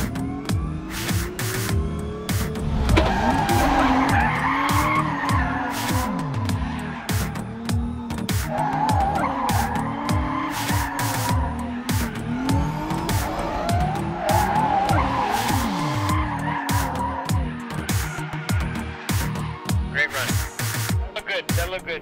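A Toyota Research Institute autonomous car drifts, its tires skidding and squealing in long, wavering screeches over a revving engine that rises and falls repeatedly, loud and continuous for over twenty seconds.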